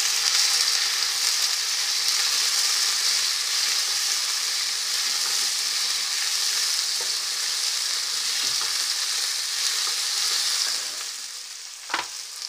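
Chopped onions and tomatoes fry in a pan, a long, even, close hiss of sizzling that holds steady, then softens near the end before a single sharp clack, with no voices.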